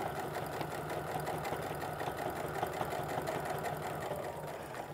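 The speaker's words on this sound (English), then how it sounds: "make sure that everything stays put and feeds nice and evenly through my sewing machine" A sewing machine stitching through layers of fabric for an apron, a steady close mechanical whir and rapid needle chatter running continuously without pause.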